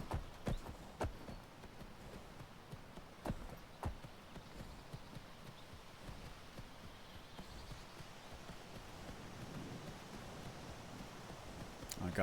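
Horse hooves clip-clop across the ground in the Skyrim video game. The irregular hoofbeats sound moderately close over a soft rustling, windy backdrop.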